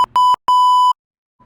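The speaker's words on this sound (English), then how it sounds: "There's a timer." A home workout timer beeps: two quick short beeps and then a long sustained tone, loud and close, followed by silence.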